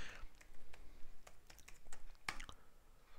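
Keys tapped on a computer keyboard while entering an IP address on a Windows machine, a quiet irregular string of light clicks, close and soft.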